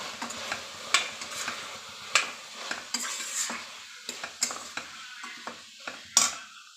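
Spices being stirred into food in a pan while cooking a Khandeshi khichdi, with a spoon scraping and clinking against the metal in an uneven rhythm over a soft sizzle, close by and with no talking.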